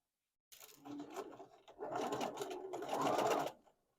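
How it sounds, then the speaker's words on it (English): A sewing machine stitches seams on a lattice shirt, a few seconds of fast, soft whirring in two short runs, close but quiet. "I am sewing either right on top of the stitch or kind of right beside it just to make sure I catch it"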